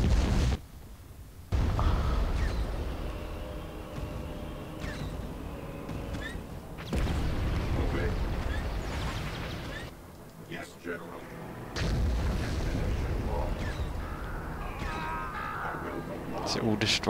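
Bombing explosions in Star Wars Empire at War, Clone Wars mod, heavy booming blasts and rumbling bursts repeating throughout, with game voices speaking over the battle.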